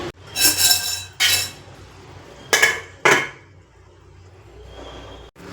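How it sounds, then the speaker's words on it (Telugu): Metal clatters close up at a home stove as a lid is set on a cooking pot: several sharp clanks and scrapes in quick bursts, then quiet with faint background noise. No voices. "ఒక ఫైవ్ మినిట్స్ మూత పెట్టేసుకొని ఉంచుకుందామండి"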